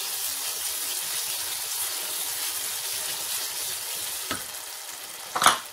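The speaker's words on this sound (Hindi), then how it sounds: "एक मिनट भूनेंगे" Ground chickpeas and potato fry in masala with a steady, close hiss of sizzling oil, broken near the end by a couple of sharp knocks of a utensil against the pan.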